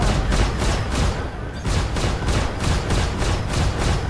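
Missiles launching in rapid succession from a ship in the space game Star Citizen, a loud, dense stream of repeated whooshing bursts at a steady rhythm, with a short lull near the middle before the volley resumes.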